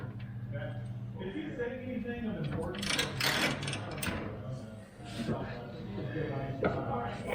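A wrench ratchets on the belt tensioner of a snowblower being installed after a mower deck is removed, giving bursts of clicking pawl and gear sounds. Someone talks over and between the clicks.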